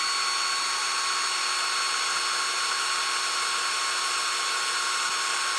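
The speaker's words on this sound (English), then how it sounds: "I'm drilling a hole in here" A power drill bores a hole in wood while building a treehouse, giving a continuous, steady high whirring whine that runs unbroken throughout, moderately loud and with no talking over it.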